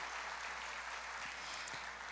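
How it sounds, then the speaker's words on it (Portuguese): Church congregation applauding together, a steady dense wash of clapping that holds at an even moderate level throughout with no voices standing out. "Vamos aplaudir ao Senhor, que coisa mais linda."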